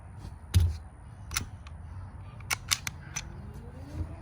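A Springfield XD pistol is handled up close during a safety check, giving several sharp metallic clicks and clacks spaced irregularly over a quiet background.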